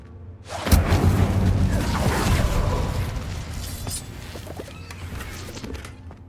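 Incendio fire spell cast in Hogwarts Legacy: a loud burst with a whooshing, crackling flare that swells and then trails off into a sustained fiery rumble, no talking.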